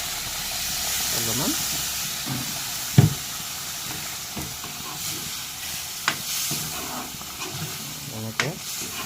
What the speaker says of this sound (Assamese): এনেকৈ অকণমান গৰম পানী দি দিছোঁ